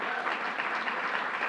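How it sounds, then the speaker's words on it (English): Dense applause from an audience at a governor's bill-signing event, a steady wash of many hands clapping at once, fairly loud and continuous throughout. "Give her a round of applause."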